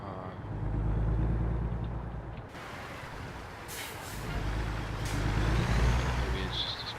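A truck engine in American Truck Simulator drones with a low rumble that swells and eases, and brief airy hiss bursts break in midway; the whole sound is fairly quiet.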